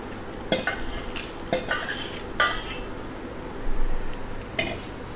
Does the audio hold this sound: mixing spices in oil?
yes